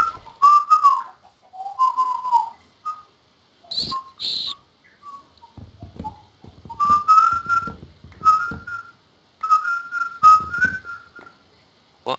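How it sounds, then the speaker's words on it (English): A person whistles a song in short melodic phrases with pauses between them, close and clear, alone with faint background sounds. "What are you whistling?"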